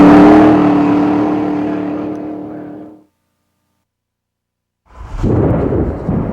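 Race cars at a grudge racing event, with loud nearby engine roar that fades into silence and then a second burst of rumbling engine noise.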